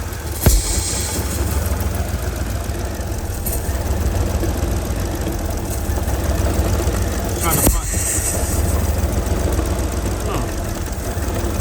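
Mercedes GL450 engine idling unsteadily with a misfire, a steady close mechanical drone carrying an airy sucking sound, broken by a couple of sharp knocks or clicks.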